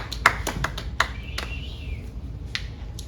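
Hands clapping in a home workout setting, a handful of sharp, close claps spaced unevenly through a short quiet stretch, with a faint ringing tone in between.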